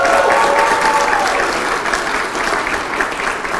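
Sustained applause from a seated audience at a leadership awards ceremony as a finalist is named, dense steady clapping that fills the room and holds throughout.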